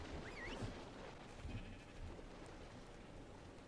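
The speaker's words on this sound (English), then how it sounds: "Where are you going, stupid sheep?" A sheep in the video game ARK bleats in short wavering cries near the start, set against a faint steady hiss like rain.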